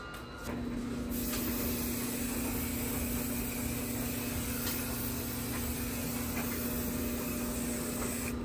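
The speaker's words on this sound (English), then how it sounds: "I also spray some ozone. So I'm gonna spray this in the laundry room and also in the stairwell" Ozone spray hissing steadily in a laundry room, one long continuous spray lasting several seconds at close range, with a low hum underneath.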